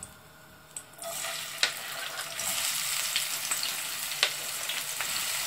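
Onion sizzles loudly in a hot frying pan while making zucchini caviar, a dense steady hiss that starts abruptly and continues, with a few small pops and clicks.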